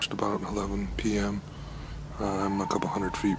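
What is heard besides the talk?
No everyday noise stands out behind the speech.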